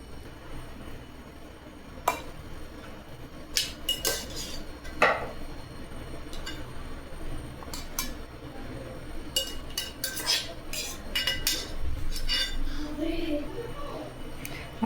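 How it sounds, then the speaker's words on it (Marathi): Steamed onions being scooped into a mixer jar, metal spoon and utensils clinking and scraping in scattered knocks over a quiet kitchen background, close by. "आपण ते एका मिक्सरच्या भांड्यामध्ये काढून घेऊ"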